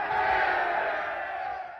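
A huge crowd gathered for the first ever balloon flight over England roars and cheers in one sustained, dense swell of voices that fades slightly toward the end.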